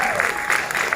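A brief, loud burst of dense audience clapping and crowd noise, close and continuous for about a second.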